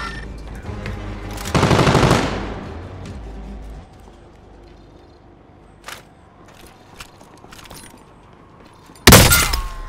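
Loud bursts of automatic gunfire in Call of Duty: Modern Warfare: a sustained rattling volley early on, a quieter sharp shot in the middle, then another sudden loud burst near the end.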